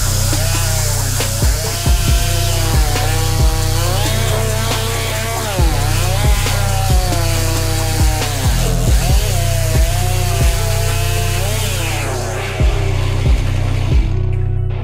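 Chainsaw cutting through a wooden log at a lumberjack competition, running loud and continuous close by with repeated revving surges and sharp bites into the wood, no talk over it.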